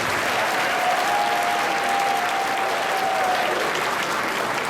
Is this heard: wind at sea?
no